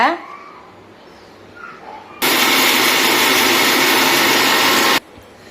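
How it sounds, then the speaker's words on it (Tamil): Kitchen mixer grinder blending coconut, ginger, garlic, cinnamon, cloves, fennel and dried red chillies into a smooth paste for tomato rice; a loud, steady motor whir runs for about three seconds, then cuts off abruptly. "மிக்ஸி ஜாரில் தேங்காய், இஞ்சி, பூண்டு, பட்டை, கிராம்பு, சோம்பு, வரமிளகாய் எல்லாத்தையும் போட்டு ஒரு நைஸாக ஒரு பேஸ்ட் அரைச்சிக்கோங்க"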